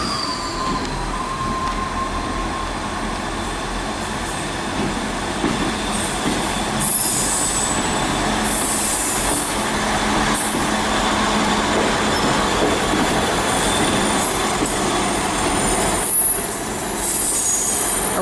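Class 159 diesel units 159 101 and 159 015 pull out of Exeter St Davids station toward Exeter New Yard, a loud continuous rumble of engines and rolling wheels with occasional squeals and clatter.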